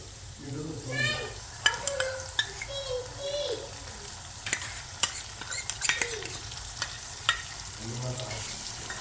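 Masala for khandoli sizzles gently in hot oil in a pan, with a spoon stirring and tapping against the metal at intervals while a person talks over it.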